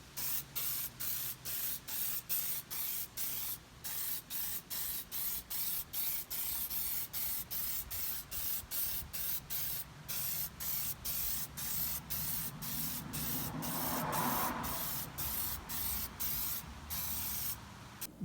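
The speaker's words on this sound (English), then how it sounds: "I'm gonna go spray that black in the bed area" A rattle-can of black Duratrax paint sprays onto an RC truck body in rapid, repeated short bursts with brief gaps, close and loud, with a longer continuous hiss near the end.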